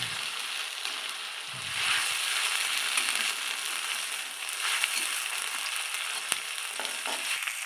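Ginger and green chillies frying in hot oil, a steady bright sizzle that carries through the whole stretch, with occasional stirring scrapes and clinks close by.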